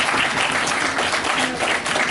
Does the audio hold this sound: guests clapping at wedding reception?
yes